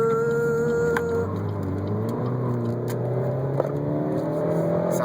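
A turbocharged Chevy HHR SS accelerates from inside the cabin, engine note rising steadily and whirring as it pulls hard, loud and continuous with no talk.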